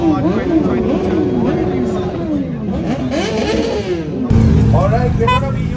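Superbike engines rev at India Bike Week 2022, rising and falling in loud, close pitch sweeps, joined near the end by a deeper, harder roar amid crowd noise.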